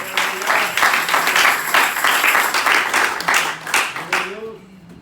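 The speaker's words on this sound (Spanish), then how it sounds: "Dele palmas al Señor." A church congregation claps loudly and steadily in a sermon setting, dense rhythmic clapping close by, with voices and shouts mixed in throughout before it thins out at the end.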